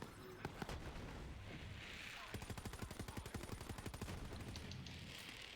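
Turret gunfire in a video game, a long rapid burst of evenly spaced shots hammering steadily for several seconds after a shorter scattered opening, loud and close with little talk over it.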